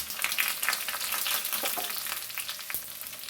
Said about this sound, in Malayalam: എണ്ണ ചൂടായി നമുക്ക് കടുക് ഇട്ട് കൊടുക്കാം